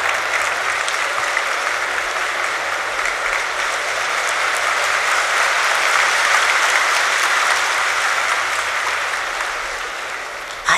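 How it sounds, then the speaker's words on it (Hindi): Sustained applause from a large audience at a Hindi spiritual gathering, dense and steady for about ten seconds before tapering slightly at the end. "ताली तो बजाओ"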